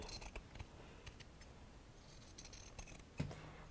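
Scissors snip through four layers of fabric in short, crisp cuts at an uneven pace, quiet and close against a soft background hiss.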